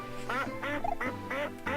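Five quacks from a friendly cartoon duck in the platform game A2XT, repeating at a steady, bouncy rhythm over looping background music, close and clear.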